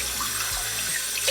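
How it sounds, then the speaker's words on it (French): Tap water runs steadily from a faucet into a pot of rice for onigiri, a continuous close hiss and splash with no break and no voices. "je vais mettre l'équivalent de 3 verres d'eau dans mon riz"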